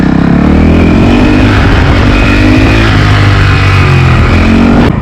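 Very loud, close engine roar from a Honda CRF450L dual-sport motorcycle held in a wheelie, the revs swelling and easing without a break, with heavy wind buffeting and no talk.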